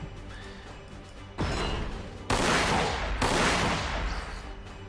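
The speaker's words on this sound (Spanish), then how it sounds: "Ametralladora pesada." Heavy machine gun fire in the Warhammer 40000 strategy game bursts out in loud, dense volleys, with a couple of sudden heavy crashes stacking over a sustained roar that slowly fades.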